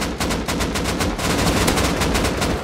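Sustained automatic AK rifle fire during a raid in the video game Rust, a dense rapid stream of loud, close shots with other gunfire mixed in, continuous with no talking.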